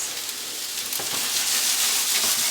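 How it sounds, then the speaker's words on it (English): Leeks sauteing in a big pan with seasonal market produce, a steady, close, loud sizzle with faint stirring and no talk. "We'll go ahead, we'll start sauteing that."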